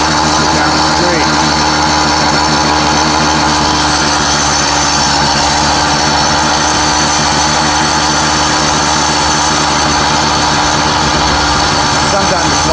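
A motorized bicycle fitted with a jackshaft drive accelerates down a street, its small engine droning loud and steady throughout with a rough, buzzing tone and no pauses.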